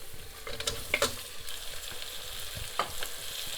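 Meat frying with browned onions in a pan, giving a steady sizzle broken by scraping stirs and clinks of the spoon against the pan, close and fairly quiet, with no talking.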